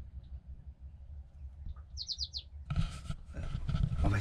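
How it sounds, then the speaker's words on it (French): Small birds chirp in a quick burst of four high notes on a morning aboard a sailboat moored at Tanga, Tanzania, faint and distant before louder rustling noise takes over. "Les petits oiseaux, vous entendez?"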